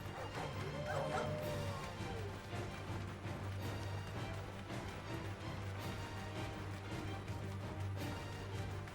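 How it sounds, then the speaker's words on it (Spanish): A dog enemy barks and yips amid dense battle sounds in Final Fantasy XVI, with crashes, music and effects layered continuously throughout. "Ah, es un perro."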